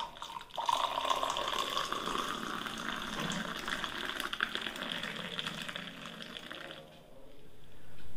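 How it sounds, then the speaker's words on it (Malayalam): Milk poured into a glass already holding strong tea decoction for dum tea, a steady close liquid stream lasting several seconds before tapering off, with no talk. "ഞാൻ സത്തൊഴിച്ചു വെച്ച ഗ്ലാസ്സിനകത്തോട്ട് നമുക്ക് പാൽ ഒഴിക്കാം."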